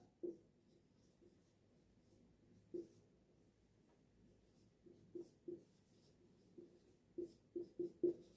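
Pencil or pen strokes on paper while writing out a math problem: faint, quiet scratches in short intermittent bursts, bunching closer together toward the end, with no talking.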